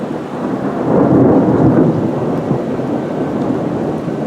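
Thunder from a summer storm rumbles loud and near, a broad low roll swelling around the first two seconds and then lingering as a steady grumble, with rain hissing underneath throughout.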